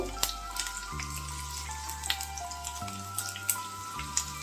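Garlic sizzling in about four spoons of white oil in a pan for dal fry, a steady soft crackle with scattered popping spatters, fairly quiet and with no voices.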